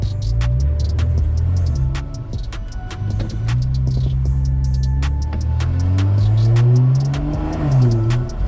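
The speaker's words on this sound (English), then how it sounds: "I should move my car though." A car being moved with a boost leak in its charge pipe rumbles close by, revving and rising in pitch as it pulls away, engine note swelling and falling over several seconds with sharp clicks around it.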